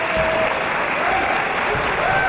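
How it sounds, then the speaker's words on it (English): Crowd at a WCPW professional wrestling show applauding a wrestler, a steady dense wash of clapping throughout, loud and close, with some voices mixed in. "the crowd are applauding the Prince of Gujarat"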